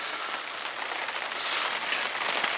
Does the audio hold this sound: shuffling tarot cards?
no